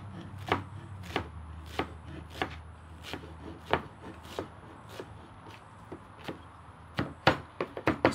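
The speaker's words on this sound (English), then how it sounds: "Now what I got here is a whole bunch of cilantro. We're just going to chop that up" A large knife chops a whole bunch of cilantro on a wooden cutting board, giving sharp knocks at an uneven pace that speed into a quick flurry toward the end, with no talking.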